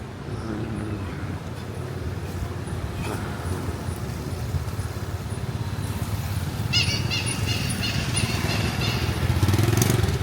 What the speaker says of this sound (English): We do have a lot of motorcycles here